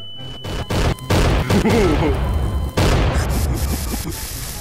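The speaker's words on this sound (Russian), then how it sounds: "Но зато красивые взрывы очень." Loud, overlapping explosions from Garry's Mod game fireworks-like blasts in a FNAF co-op map, rapid booms and crashes crowding a dense burst of game noise with brief gaps between hits.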